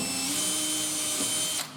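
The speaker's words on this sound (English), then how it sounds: "I always pre-drill mine." A power drill bores a pilot hole for a screw behind a hinge plate in a kitchen cabinet panel, a steady high whine held close for over a second before winding down.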